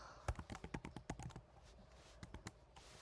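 Quick, close keystrokes clatter on a MacBook keyboard while Python code is typed, coming in a fast burst, then a pause and a few more taps, faint overall.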